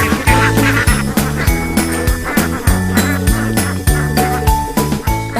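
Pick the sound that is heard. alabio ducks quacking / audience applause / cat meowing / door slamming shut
alabio ducks quacking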